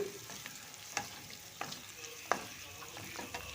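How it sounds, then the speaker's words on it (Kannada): Onion frying for vegetable uppittu, a faint soft sizzle broken by a few sharp spatula taps and scrapes against the pan, close by with no voices. "ಸ್ವಲ್ಪ ಈರುಳ್ಳಿ ಫ್ರೈ ಆಗಲಿ"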